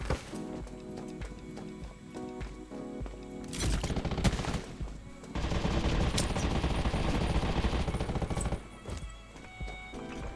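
Gunfire in the video game Undawn comes as rapid automatic bursts, loud and close. Short pauses break up longer sustained volleys.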